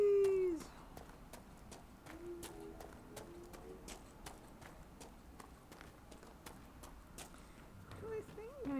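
Horses galloping in Dragon Age: Inquisition, a steady run of clip-clop hoofbeats at moderate distance under faint ambient sound, with a voice talking at times.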